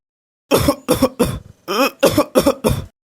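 A child coughs repeatedly, seven or eight short harsh bursts close by with a brief pause in the middle.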